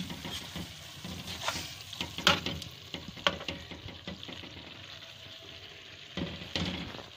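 Mixed vegetables for a restaurant-style mix sabzi are stirred in a pan, with soft sizzling under irregular scraping strokes and clinks, close by and fairly quiet.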